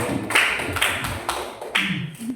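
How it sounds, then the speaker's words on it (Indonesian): A group of school teachers at a high school gathering claps in short bursts, several rounds of moderately loud applause with brief pauses between. "Tepuk tangan buat Bapak Dea."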